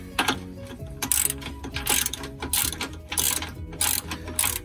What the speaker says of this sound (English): First, let's move these two bolts.